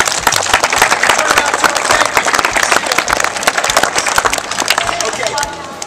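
Youth football campers at the Gillette Stadium field house clap loudly for the people who brought them, a dense, continuous burst of many hands with crowd noise and voices mixed in, fading slightly at the end.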